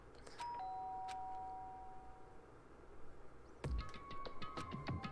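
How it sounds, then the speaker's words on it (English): A doorbell chimes in the Danganronpa video game: a two-tone ding-dong rings out clearly, then after a pause a brighter metallic chime sounds with a thud, fairly quiet overall with no voices. "did I hear the doorbell?"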